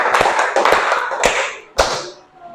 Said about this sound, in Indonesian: tepuk tangan 5 kali